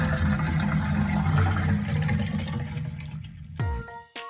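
A sound effect of the ocean being drained: a loud, continuous rushing gush of water that thins out and gurgles away, ending with a brief descending swoosh.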